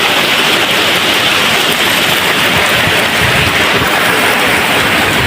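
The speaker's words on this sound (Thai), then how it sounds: "ฝนตกหนักครับ" Heavy rain pours down in a dense, constant roar with no pauses, loud and close throughout.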